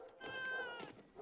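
A single short cat meow, clear and close, rising and falling over about a second in a quiet scene from a Spanish-language Western film.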